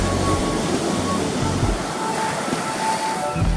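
Ocean waves break and wash continuously at a surf point, a loud, steady roar of surf with wind buffeting the microphone throughout.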